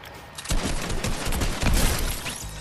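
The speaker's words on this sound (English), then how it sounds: "I'm going to run out and shoot him." Gunfire in the video game Fortnite, a burst of dense, rapid shots beginning after a brief quiet lead-in and rattling on loud and close to the end.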